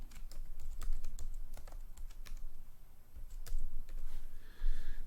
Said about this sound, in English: I'm going to go ahead and type in my author name.